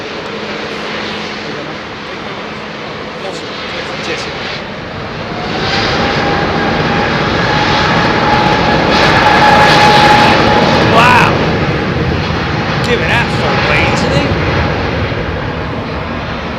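A Qantas QF2 jet airliner departs London Heathrow, its engine roar building from a distant rumble to a loud, sustained whine and then easing slightly, with voices talking over it.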